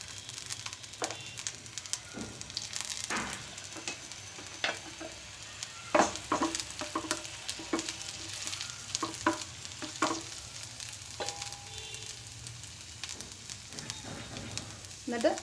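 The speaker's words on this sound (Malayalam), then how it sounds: "അത് ചൂടായി കഴിയുമ്പോൾ നമുക്കതിലേക്ക് അരിഞ്ഞു വെച്ചിരുന്ന ഇഞ്ചി ഇട്ട് കൊടുക്കാം." Chopped ginger frying in hot masala in a kadai while preparing stuffed capsicum gravy, a steady sizzle with scraping stirs and sharp clinks of a spoon against the pan throughout.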